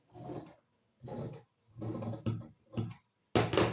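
Scissors snip through cloth cut for a baby frock, five separate close bursts of crisp rasping spaced about a second apart, the last one loudest, with no talk.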